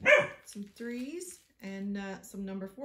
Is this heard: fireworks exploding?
no